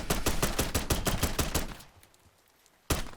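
Rapid automatic gunfire from Black Ops 6 rattles off in a fast burst of about a dozen shots, pauses briefly, then a single further shot cracks near the end.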